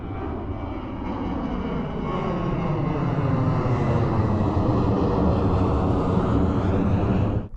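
A Ryanair airliner passes overhead as a loud, steady jet roar that swells slightly, with a slowly shifting engine drone that fills the whole scene and then cuts off abruptly.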